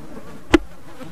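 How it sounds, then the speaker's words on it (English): A looping mosquito ambience from the Black Ops 3 mod tools gives a faint, steady insect buzz, broken by one short sharp click midway. "look in ambient, animals, insects, mosquito, loop, and here's my mosquito sound"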